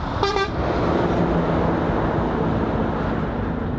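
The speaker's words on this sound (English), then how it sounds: "we're getting a lot of people honking at us on the side of the road and waving" A single short car horn toots near the start, followed by steady roadside traffic rumble, with vehicles passing close by.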